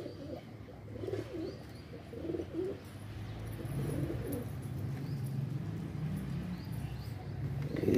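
A pet pigeon coos in low, repeated rolling phrases, moderately close, over a steady background hum with no talking.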